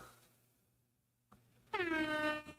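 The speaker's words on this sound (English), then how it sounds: "air horn." A loud, blaring air horn sounds after a short pause and holds steady for nearly a second before cutting off.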